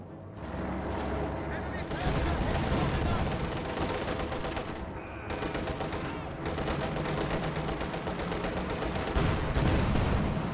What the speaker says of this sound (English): Ostwind firing through the hedge